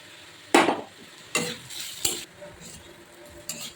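Grated coconut and ginger sizzle in a pan while a spatula scrapes and stirs in several sharp strokes, the frying hiss continuing between them.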